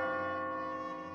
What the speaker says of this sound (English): despise this bell.